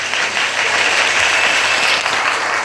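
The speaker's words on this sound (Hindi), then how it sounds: "सभी के लिए ताली हो जाए।" An audience claps steadily and loudly, a dense wash of hand claps filling the room without pause.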